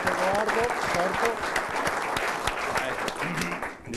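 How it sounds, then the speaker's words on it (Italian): Applause for a guest named Edoardo on a studio talk show about the Padova football club, steady dense clapping lasting throughout with some voices mixed in, easing slightly at the end. "Un applauso a Edoardo."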